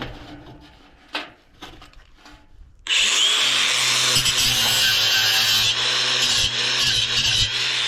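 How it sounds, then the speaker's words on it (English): An angle grinder bites into a scrapped ice maker with stainless steel parts, starting abruptly after a few clanks and then roaring steadily and loudly with a harsh metallic whine that shifts as the blade cuts. "I need to get my grinder blade going on right now"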